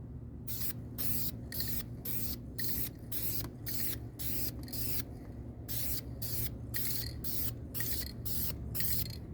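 A rattle can of spray paint hisses in a rapid series of short, even bursts, sweep after sweep, close to the listener over a low background rumble.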